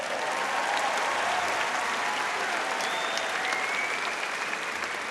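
Graduation audience at the Arlington High School class of 2013 ceremony breaking into sustained applause, a steady dense wash of many hands clapping with faint cheers mixed in, even and continuous throughout.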